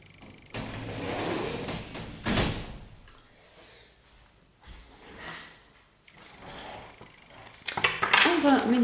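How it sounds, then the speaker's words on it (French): A window is pulled shut in a room with street noise outside: scraping, rattling and a few sharp knocks and clunks of the frame and latch, uneven and close, with some faint voice between the bumps. "Je vais profiter pour fermer la fenêtre parce qu'il fait trop de bruit"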